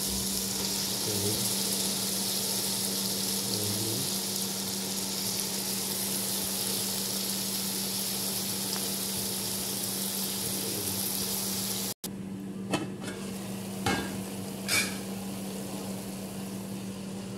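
Red amaranth leaves added to a hot pan of spices and stirred, giving a steady broadband sizzle with a constant hum underneath, then a quieter stretch with a few sharp scraping clicks near the end.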